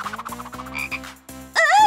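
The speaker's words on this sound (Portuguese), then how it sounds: "Ai, eu odeio sapos!" A cartoon frog croaks in a rapid series of deep, buzzy, rhythmic pulses, loud and close, ending in a burst of high, warbling comic effects.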